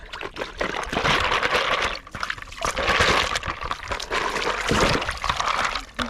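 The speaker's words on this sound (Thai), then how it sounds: "ขออนุญาตล้างหอยก่อน หอยแมงผู้" Green mussels being washed in water, a continuous close-up sloshing and splashing with bursts of trickling and pouring, fairly loud and steady, with no talking.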